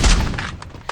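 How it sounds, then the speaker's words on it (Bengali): A grenade blast in the mobile shooter Free Fire, a loud booming burst at the start that fades, followed by a sharp second hit at the end. "গ্রেনেড মারলাম।"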